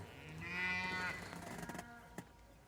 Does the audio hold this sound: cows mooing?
yes